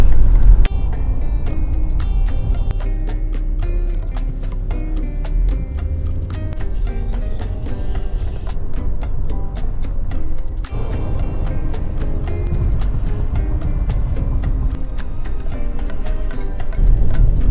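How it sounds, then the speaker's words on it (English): A car drives southbound on Highway 99 in slow four o'clock traffic at about 15 miles per hour, a steady low road rumble with engine drone and rhythmic ticking clicks throughout, no talking. "Quite a bit of traffic."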